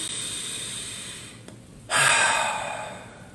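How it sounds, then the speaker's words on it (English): One deep breath taken during a guided meditation: a soft, close inhale, then a louder, breathy exhale that fades slowly, with no talking. "You might want to take a breath."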